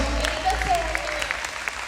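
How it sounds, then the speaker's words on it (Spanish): Church congregation applauding during a Eucharist celebration, a short steady burst of clapping with a voice and low hum underneath. "Fuerte el aplauso al Señor."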